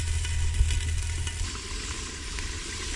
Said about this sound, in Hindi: अब जो है इसको हम अच्छे से इसको फ्राई कर लेते हैं